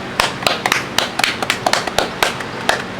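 Hands patting and clapping tortilla dough into handmade tortillas in a Mexican cooking class, a series of sharp, close slaps in an uneven rhythm, about a dozen in quick succession with faint talk in the background.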